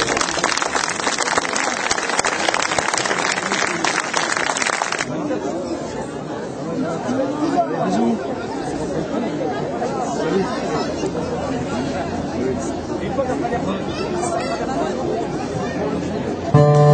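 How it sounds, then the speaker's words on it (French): Audience applause at a summer show, a dense, loud burst of clapping that fills the opening five seconds, then thins into crowd babble and scattered voices, with a sharp sound right at the end. "je vous demande de les accueillir avec un tonnerre d'applaudissements"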